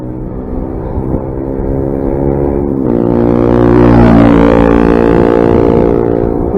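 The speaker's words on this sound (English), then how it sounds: "It was a motorbike this time." A motorbike passes close on a road, its steady engine drone swelling as it nears and then sweeping past with a clear pitch drop, heard alone and fairly loud.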